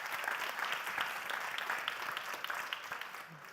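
Brief audience applause at a university science contest forum, a fairly faint, even wash of many hands clapping without pause.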